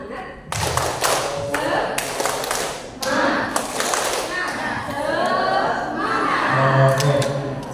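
A group performs a rhythmic 'tepuk semangat' cheer clap at a teachers' workshop, with sharp patterned bursts of claps separated by short pauses and voices mixed in between.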